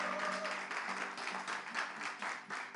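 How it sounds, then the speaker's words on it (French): A French TV studio audience applauds, a steady patter of many hands in rhythmic waves with a faint tonal hum underneath, fairly close and continuous for a few seconds. "On applaudit"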